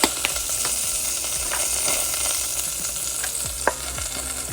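Food browns in a frying pan with a dense, continuous sizzle close by. A few sharp stirring clicks stand out over the hiss, and no voices are heard.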